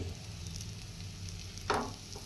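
Spiced potato filling for vada pav sizzles gently in a pan as it is sautéed, a soft steady frying hiss with one brief scrape of stirring.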